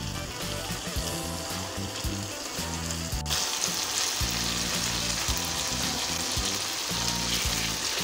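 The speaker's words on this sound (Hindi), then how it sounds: "मसाले में भिंडी को भूनेंगे।" Okra fries in masala in a pan, a steady close sizzle and crackle with rhythmic stirring scrapes and clinks throughout, no talking.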